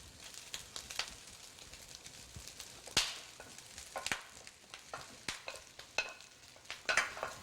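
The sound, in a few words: stir-frying fried rice ingredients with eggs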